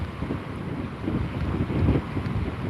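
Strong typhoon wind roars against the microphone along the coast at Jeju during Typhoon Bavi, with high waves surging and washing over a flooded harbor road, a continuous loud buffeting rumble with no talk.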